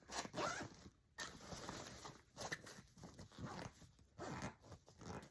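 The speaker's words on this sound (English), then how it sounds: "we're going to zip this up" A zipper is pulled closed around a packed bag for a road trip, a series of close, rasping zips in short bursts with brief pauses and handling rustles in between.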